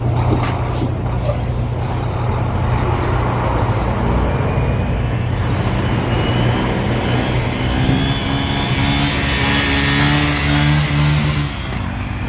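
A Honda Grom motorcycle engine drones continuously through a long wheelie, heard with heavy broadband rush and wind noise, its pitch climbing slightly near the end.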